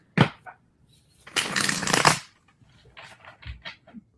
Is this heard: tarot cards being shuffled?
yes